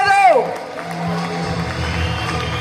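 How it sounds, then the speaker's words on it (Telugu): Audience at a direct selling and network marketing session in Vizag, a dense crowd wash of cheering and clapping following a brief shout, continuous and fairly loud. "సార్కి ఒకసారి గ్రాండ్ గా క్లాప్స్ ఇద్దామా?"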